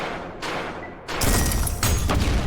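A nuke blast in the fast-paced shooter game ULTRAKILL goes off close by. Loud layered crashes build into a heavy, rumbling roar.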